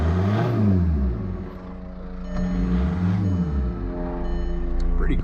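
A straight-piped 2004 Volkswagen Jetta TDI diesel engine revs up and falls back several times from close range, a deep swelling drone with a faint whistle of boost near the end.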